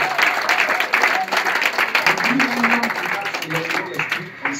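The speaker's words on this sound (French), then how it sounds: "Est-ce que tu peux acclamer Jésus-Christ?" A church congregation claps and cheers loudly for Jesus Christ, dense sustained applause with shouting voices mixed in throughout.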